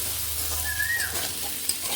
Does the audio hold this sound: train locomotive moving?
no